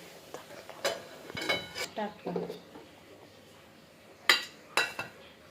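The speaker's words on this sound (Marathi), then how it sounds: "तर आपण याला प्लेटमध्ये काढूया." Dry soybean gravy scooped from a pot onto a plate, a spoon clinking and scraping against metal in short irregular bursts, with quiet gaps between them.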